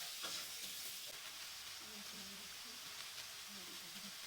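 Pointed gourd (potol) pieces frying lightly in oil in a home kitchen pan, a dense continuous sizzle with soft stirring clatter underneath, close and steady throughout.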